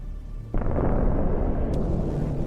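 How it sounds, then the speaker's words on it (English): A drone strike on a military vehicle sets off one sudden, heavy explosion. A broad, rumbling roar follows and holds loud for a couple of seconds. "Look at this hit and the explosion from another drone that was adjusting the artillery fire."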